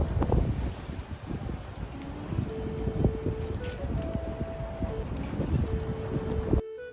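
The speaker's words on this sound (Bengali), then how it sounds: "এখানে এখন যেমন ঠান্ডা আছে তেমন বাতাস দিচ্ছে" Cold winter wind in a Swedish city buffets the microphone with loud low rumbling gusts, heaviest at the start, over faint distant tonal hums from the street, with no voices.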